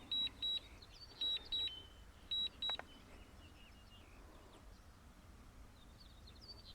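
A DJI Mavic Air 2 drone's controller emits short high-pitched beeps in three quick pairs, evenly spaced over the first few seconds, then falls quiet against faint wind and background hiss.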